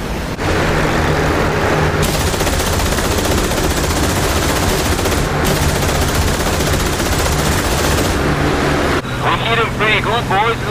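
Cannon and machine-gun fire from a de Havilland Mosquito attacking bombers in the DCS flight simulator, a dense, loud, sustained roar of rapid shots over engine drone, with bursts cutting in and out.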